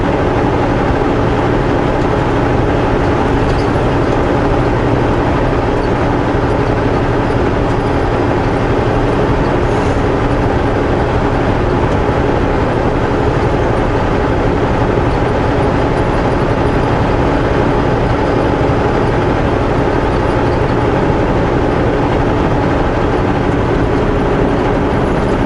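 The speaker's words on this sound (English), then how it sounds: "I don't think I've ever seen so much traffic headed from Calgary to Banff before." Heavy highway traffic, including tour buses, heading west from Calgary toward Banff, heard as a steady, loud low rumble of engines and tyres that holds without a break, with no talk over it.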